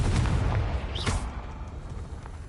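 Confringo fire spell in the Hogwarts Legacy video game, a heavy booming explosive burst with a brief whooshing streak, loud and close, then a rumbling decay.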